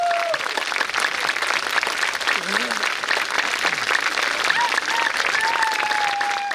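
A crowd applauds a town orchestra and its conductor at a town's 100th birthday concert, steady dense clapping throughout with a few voices and cheers rising briefly beneath it.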